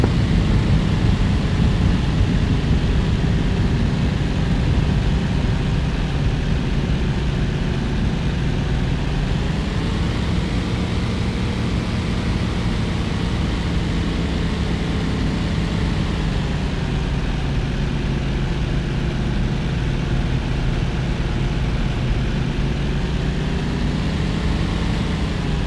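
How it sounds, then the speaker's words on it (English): WWII aircraft engine in a flight simulator game set over the Rhine crossing of March 1945, a loud continuous droning roar with steady low harmonics and slight pitch swells, running alone without talk throughout. "I can hear that engine."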